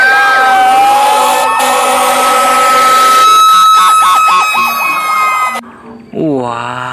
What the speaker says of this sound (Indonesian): Wow, ini ada truk pemadam atau mobil damkar.